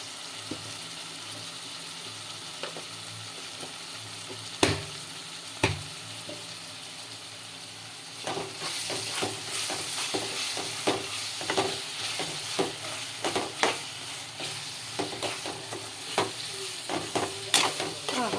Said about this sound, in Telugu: ఇప్పుడు నేను కొంచెం అల్లం వెల్లుల్లి పేస్ట్ కూడా వేస్తున్నాను